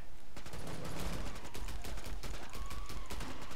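Rapid bursts of gunfire from the video game Killing Floor 2, repeated sharp shots packed densely across the moment, steady and loud with no talk over them.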